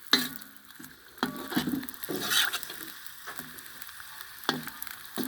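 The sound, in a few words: young potatoes frying over a fire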